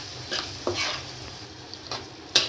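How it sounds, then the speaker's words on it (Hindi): Round gourd cooking with chilli powder and spices in a pan over a low flame, a quiet continuous sizzle with a few light spatula scrapes and one sharper tap near the end, no voices. "अब 1-2 मिनट इसको मसाले के साथ में पका लेते हैं।"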